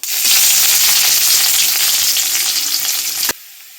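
Whole spices, a dried chilli and chopped onion hit hot oil with a bay leaf in a home kitchen, giving a loud, steady hiss of frying for about three seconds that cuts off abruptly, leaving quiet room tone.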